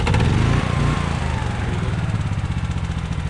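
A Honda EB6500X generator fires up with the choke on and settles into a loud, steady, close-up running drone with a rapid, even engine pulse and no talking.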